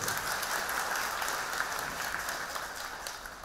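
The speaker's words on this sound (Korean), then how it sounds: "여러분 박수 한번 부탁드립니다." Audience applause at a Buddhist Saturday dharma service, a steady wash of many hands clapping that holds for several seconds at a fairly even level.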